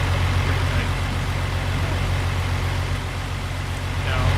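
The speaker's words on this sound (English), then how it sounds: "When the next one shows up, you'll hear its engine." A school bus engine arriving in Farming Simulator 25, a continuous heavy low diesel drone with a faint rise near the end.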